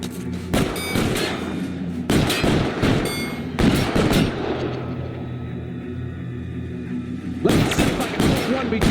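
Bursts of gunfire in the video game L.A. Noire, several loud clustered volleys separated by pauses, mixed with game ambience.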